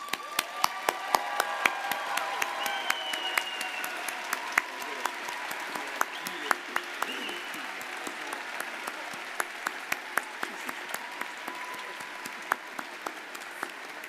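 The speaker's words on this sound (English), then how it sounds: "give them a big round of applause" Graduates at a 2023 medical college commencement in Milwaukee give a sustained round of applause, dense steady clapping from a large crowd filling a big hall, with sharp individual claps standing out throughout.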